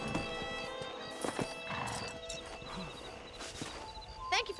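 A horse in the video game Red Dead Redemption clops its hooves in uneven steps, then gives clear whinnies and snorts near the end, all fairly close with a faint game ambience underneath.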